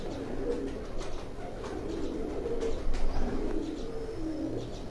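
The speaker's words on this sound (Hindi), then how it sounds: "ये मेरे हाथ में आप कबूतर देख रहे हैं, ये उन्हीं के घर के ये लाखे कबूतर जो हैं" Lakha pigeons held in the hand give a steady stream of soft, low cooing, close and continuous, with several birds murmuring over one another against faint background chirps.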